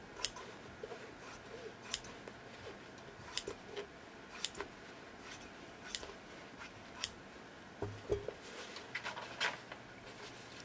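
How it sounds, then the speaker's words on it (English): Scissors cut fabric around a pattern piece in a quiet sewing space, giving close, crisp snips spaced about a second apart with soft rustling between them. "basically just cut that chunk out around so that I'm not overusing"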